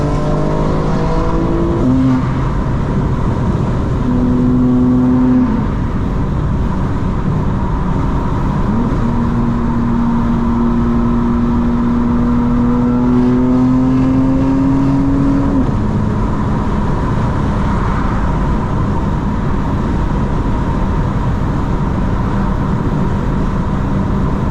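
A 2025 BMW M4 Competition engine while braking and downshifting, loud and continuous from the cabin, with a steady drone and tonal lines that dip and shift as the revs change, no talking.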